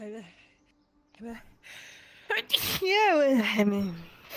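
A single sharp sneeze bursts out mid-clip amid casual talk in a game session, with speaking voices before and after it.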